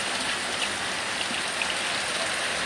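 Steady rain patters on a tin roof of a village house in the rainy season, a soft, even, continuous drumming with no voices.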